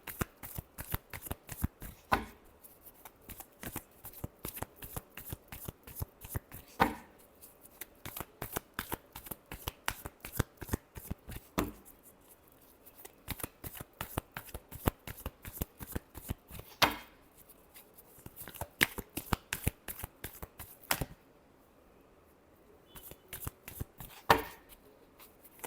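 Tarot cards being shuffled by hand, close and crisp, in rapid bursts of riffling flutter separated by short pauses, repeating steadily throughout with no voices.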